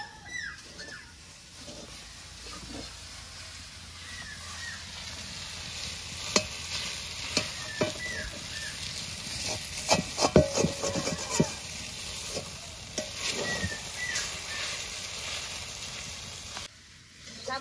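Sabudana and potato fry in a pan, a soft steady sizzle with intermittent scraping and stirring taps that grow busier midway, fairly quiet and close, with faint bird chirps in the background.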